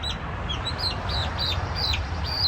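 Young backyard chicks in an urban homestead peep and cluck in short, high, repeated calls over a steady low background hum, close and moderately loud.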